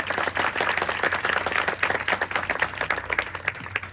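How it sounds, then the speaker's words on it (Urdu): Dense, continuous clapping from a church congregation at a Sunday service fills the room, steady and fairly loud throughout with a faint low hum underneath and no clear talk. "تالی کو بجا دیا کریں"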